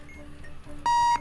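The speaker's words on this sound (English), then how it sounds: "The alarm." An alarm in the bomb-defusal video game Keep Talking and Nobody Explodes sounds as one loud, sustained electronic beep lasting about a third of a second, cutting in abruptly over quiet background.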